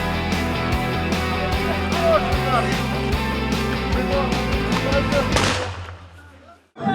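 Gunfire at a mountain assault troops training exercise, dense continuous shooting and bursts blending into a loud sustained roar before abruptly stopping near the end.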